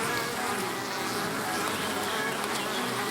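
Honeybees buzz densely and steadily around an opened beehive while bee escapes are being fitted to the supers for the honey harvest, a close, continuous hum with no talk.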